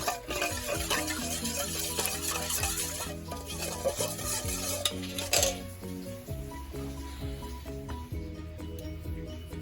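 A sauce of Shaoxing wine and sugar is mixed in a pot for steamed pompano, giving soft stirring and light clinks of a utensil against the vessel, with a steady tonal background underneath and a quieter tail.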